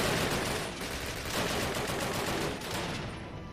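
Dense, continuous gunfire fills a Call of Duty battle, overlapping rapid shots and bursts with no gaps, loud and sustained throughout.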